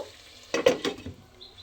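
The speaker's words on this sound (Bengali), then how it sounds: "জাস্ট এটাকে এরকম আলতো হাতে একটু মিশিয়ে দিচ্ছি" Bottle gourd and prawn curry is gently stirred in a pan: a brief cluster of soft scraping and wet stirring sounds over a low simmering sizzle.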